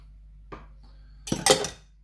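A metal spoon scrapes and stirs OXO stew mix around a pan holding rabbit liver, kidney, heart and back strap, with a faint tap early on, then a short burst of close, busy scraping.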